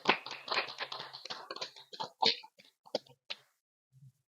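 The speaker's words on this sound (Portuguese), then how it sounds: "Uma salva de palmas." A small group gives a round of applause for a guest introduced on a podcast, several close hand claps that thin out and stop after about three seconds, leaving near silence.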